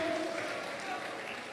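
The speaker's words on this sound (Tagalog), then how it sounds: "Palakpakan pa natin mga Panginoon" A church congregation applauding, a steady wash of clapping heard throughout under a preacher's loud voice.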